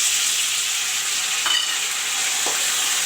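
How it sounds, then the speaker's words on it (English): Tomatoes added to a pan of browned onions frying for a simple vegetable curry give a steady, close sizzle throughout, with two short soft splashes or stirs partway through; no talking. "Friends, the onions are turned brown. Now I will put in the tomatoes."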